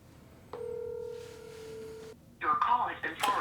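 A telephone call being placed: a steady dial-tone-like tone for about a second and a half, then a burst of rapid, loud electronic tones from the handset, close and clear with no talking.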